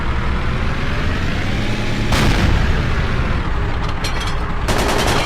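Explosions and artillery fire in the video game Battlefield during a Somalia battle with tanks, a steady loud rumble of combat with sharper blasts near the middle and toward the end, no talk.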